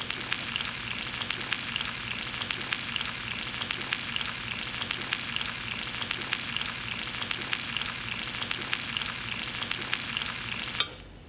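Breakfast food frying in a pan with cheese added, a continuous crackling sizzle dotted with rapid popping spatters, close and even throughout before cutting off abruptly at the end.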